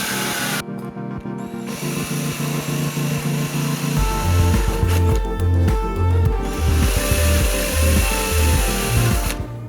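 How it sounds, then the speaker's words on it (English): Power drill boring screw holes for a cut-in handle in a workshop, a close, loud whirring motor that rises in pitch and pulses as the bit works through the material. "Drill the holes for the screws with the distance of 3 mm from the edge."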